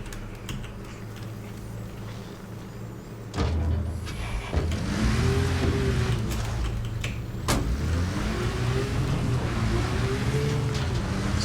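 Military trucks in Arma Reforger rumble past, a low engine drone rising in loudness with shifting gear whine and tonal sweeps, clicks and clunks layered over a continuous close mechanical roar.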